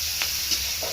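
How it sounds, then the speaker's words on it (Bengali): Flattened rice (chira) fries with onion in a hot pan in a home kitchen, giving a steady broad sizzling hiss with a couple of faint stirring scrapes and no voices. "চিড়ার হুড়ুম ভাজা"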